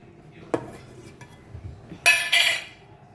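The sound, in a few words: metal pots and utensils clinking while making homemade ghee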